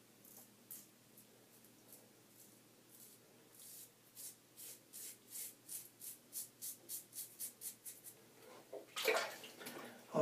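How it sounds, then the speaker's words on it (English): A slant bar razor strokes lightly across the face with no pressure, giving a run of soft, evenly spaced scraping rasps that grow steadier, then a louder burst of rinsing water near the end. "So I'm shaving using no pressure."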